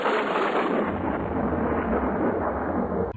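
Thunder from a lightning storm rolls in as a long, loud, continuous rumble with rain hissing underneath, rising briefly and then holding steady for about three seconds without any voices.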